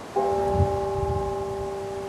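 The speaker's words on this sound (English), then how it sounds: "Church bells breaking the somber silence as loved ones in Lewiston, Maine say their final goodbyes." Church bells ring at a funeral in Lewiston, Maine, a steady sustained tone with a clear hum that enters after a moment of quiet and holds without fading.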